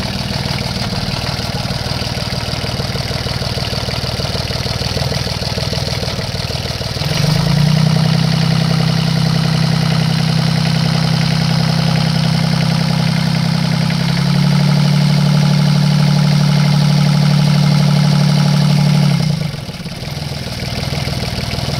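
Beneteau Oceanis 311 Clipper sailboat's inboard engine cranks and catches around the middle, then settles into a steady, loud low idle that shifts slightly in pitch before cutting off near the end, over faint background hum.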